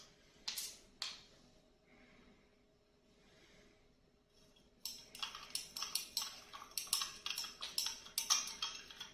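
A spoon stirs sugar into cold milk in a glass. A couple of isolated taps come first, then quick, steady metallic clinks repeat for several seconds, close and fairly crisp.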